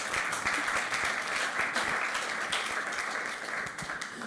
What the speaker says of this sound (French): Oui, on peut applaudir pour ça.